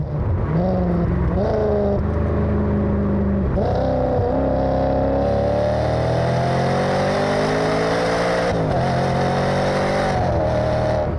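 A Maserati GranSport engine revs hard toward its 7,600 rpm red line, a loud, continuous rising howl with several shift dips as the pitch climbs again through each gear.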